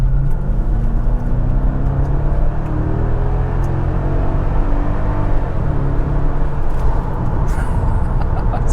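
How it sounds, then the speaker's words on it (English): A Mercedes W210 wagon with a swapped M113 V8 drones steadily from inside the cabin as it accelerates on a highway, its rising hum and road rumble building smoothly with no talking. "I'm gonna give it some gas."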